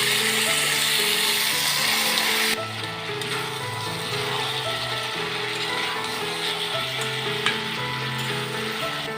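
Chicken pieces frying in oil with browned onions, bay leaf and chili in a pan for an Assamese chicken curry, a loud steady sizzle and crackle throughout, dropping slightly after a few seconds as the meat goes in, with light stirring scrapes.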